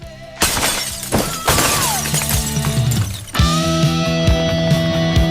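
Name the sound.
glass ceiling shattering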